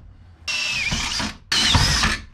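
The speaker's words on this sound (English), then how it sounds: "This is a very weak drill press." A weak drill press driving a step drill through a panel aboard a wooden boat, two loud grinding bursts separated by a short pause.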